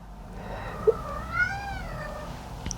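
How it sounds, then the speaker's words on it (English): A cat lets out a drawn-out, wavering meow, fairly close and clear over a quiet room background. "If you can hear her meowing."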